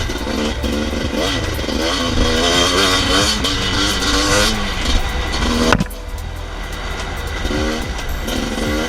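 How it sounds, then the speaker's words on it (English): A two-stroke dirt bike engine revs hard nearby, its raspy note rising and falling through several throttle blips before dropping abruptly to a lower idle-like drone. "The humble chords of the two-stroke, singing us the song of its people."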